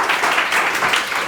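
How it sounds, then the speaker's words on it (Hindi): Students in a classroom clap together, a dense continuous burst of applause from many hands at close range with no gaps. "ताली मारिए एक बार।"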